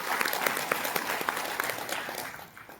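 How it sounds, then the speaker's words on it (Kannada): An audience at a Kannada community student awards and Rajyotsava celebration applauds in steady, dense clapping that fades slightly toward the end. "ಜೋರಾದ ಚಪ್ಪಾಳೆ ಬರಲಿ."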